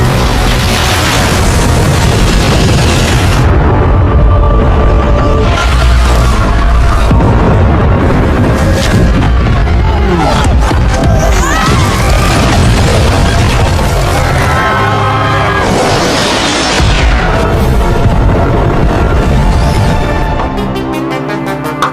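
A mountain erupts in a massive explosion in a dark fantasy battle scene, loud roaring booms and crashing rumble sustained throughout, layered with dramatic orchestral swells and debris, fading at the end.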